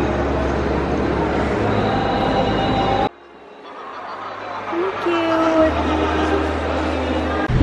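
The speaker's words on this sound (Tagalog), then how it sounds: "Dito yung LRT." A loud LRT light rail train rumbles and screeches past nearby, cuts off abruptly, then another rolling train noise builds with metallic squeals.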